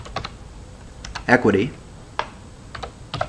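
Scattered clicks of keys typed on a Bloomberg terminal keyboard, quick taps in short bursts, with a brief spoken word in the middle.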